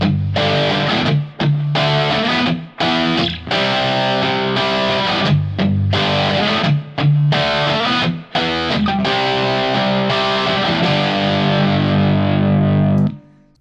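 Electric guitar run through the Bias Effects 2 amp simulator, heavily distorted chords strummed loud and close in bursts with short gaps, ending on a sustained ringing chord that cuts off.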